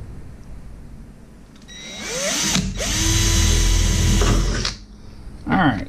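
A power drill spins up and bores holes, its close whine rising as the bit bites in and holding for a couple of seconds before stopping, followed by a short second burst.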